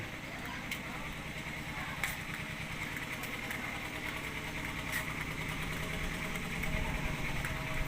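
A steady, low tractor engine idles throughout, a continuous rumbling chug with a faint rattle on top, fairly close and unbroken.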